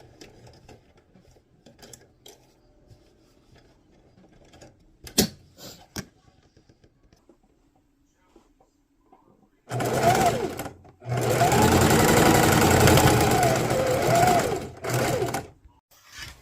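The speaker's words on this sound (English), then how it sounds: "we're going to run it through the sewing machine" A sewing machine whirs into a fast, steady stitching run through a fabric shopping bag after some quiet handling sounds, stopping briefly then continuing loudly close by.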